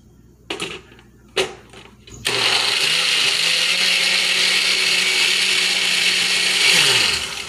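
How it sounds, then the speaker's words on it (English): A couple of short clunks, then a blender blending fresh pomegranate juice starts and runs loudly and steadily for several seconds, winding down slightly at the end. "And now let's put it in the blender."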